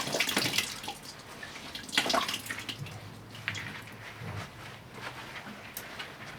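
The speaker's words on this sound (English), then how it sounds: "squeeze the excess of water" Water drips and splashes as wet dyed fabric is squeezed by hand in rubber gloves, a few close splashy bursts followed by quieter trickling.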